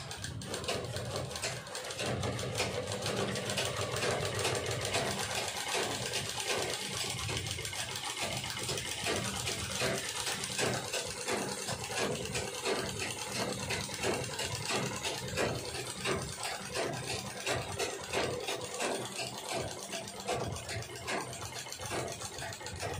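A sewing machine runs nearly continuously while stitching a seam, a steady close rattling hum that holds its level throughout with hardly any pause and no talk over it.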